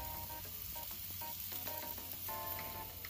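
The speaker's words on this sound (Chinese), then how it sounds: "现在肉在持续的滋滋作响，已经快熟了。" Lamb kebabs sizzle steadily on a gas-fired BBQ grill, a continuous close hiss and crackle that holds at an even level throughout, with occasional sharper pops and no one speaking.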